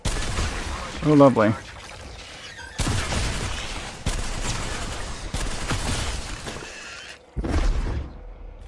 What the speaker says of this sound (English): I'm hearing gunfire, which means we're not alone around here.